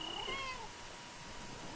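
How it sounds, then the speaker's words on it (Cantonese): A caged, apparently abandoned cat meows once outside at night, a single plaintive, rather faint call lasting under two seconds with no one speaking. "有隻貓喺度叫嘅"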